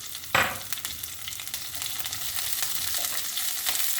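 Peppers dropped into a frying pan with garlic-scented oil, a sharp burst of sizzle at entry settling into steady close frying with light stirring, no voices.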